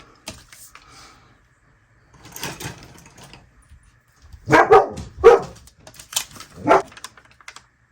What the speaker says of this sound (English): Of course, she starts to bark